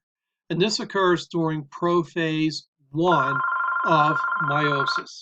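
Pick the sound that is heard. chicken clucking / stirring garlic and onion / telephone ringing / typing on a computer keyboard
telephone ringing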